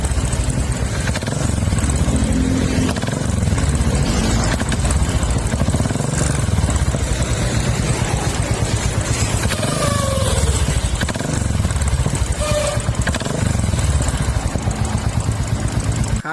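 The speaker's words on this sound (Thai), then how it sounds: "ฟังเสียงเครื่องยนต์นะครับ" A 2016 Royal Enfield Continental GT 535 motorcycle engine idling steadily with a low, even rumble throughout, close by and continuous, with no talking.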